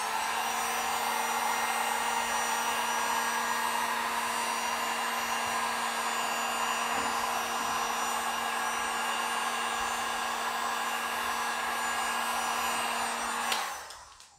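A heat gun blows hot air over vinyl camo wrap being applied to a Chrysler 300 SRT8, a steady loud whirring hum with a constant tonal whine held for about thirteen seconds before cutting off.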